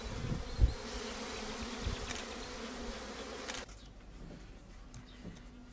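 Honey bees buzz around their hives during the royal jelly harvest, a steady close insect drone with a few louder thumps early on, dropping to a fainter hum partway through.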